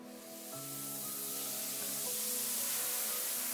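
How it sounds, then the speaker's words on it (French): Comforter bath bomb dropped into carbonated water, fizzing with a steady soft hiss that builds gradually, close and alone with no voices. "j'ai ma bombe de bain Comforter"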